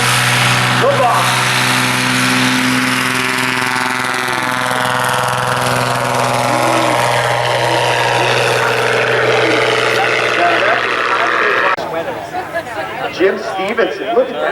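A STOL competition aircraft grossing over 3,000 pounds takes off, its engine and propeller droning loudly and steadily for most of the stretch before the sound cuts off into a commentator's talk and crowd noise.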